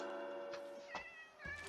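A Minecraft cat gives a few short meows in a row, clear and close, with brief pauses between them and no talking.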